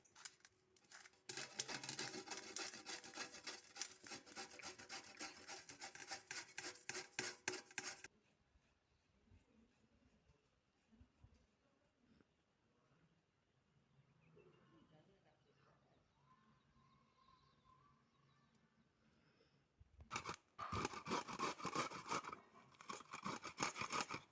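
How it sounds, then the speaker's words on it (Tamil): Carrots for carrot halwa are rubbed against a grater in rapid rhythmic rasping strokes, close and crisp, in two bursts separated by a quieter stretch. "அடுத்தது நம்ம துருவிக்கலாம் வாங்க"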